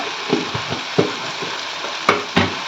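Coriander-cumin powder and spices frying in oil for a spicy potato curry, with a constant hiss and periodic stirring scrapes and clacks of a spoon against the pan.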